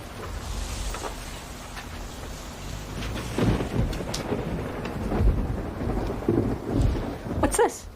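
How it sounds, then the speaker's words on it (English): Steady rain pours with low rolling thunder rumbling underneath, swelling louder midway, with faint voices in the background. "But it's raining."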